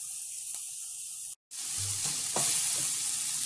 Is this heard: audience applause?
no